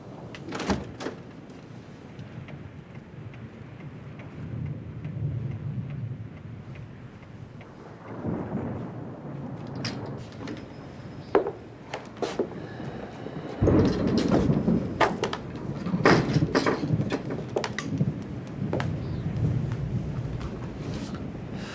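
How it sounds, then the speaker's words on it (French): Thunder rolls and rumbles through a long stretch, low and booming with several sharp cracks and crashes, heavier toward the end, heard indoors with a door-like thud or two and no speech. "c'est le tonnerre"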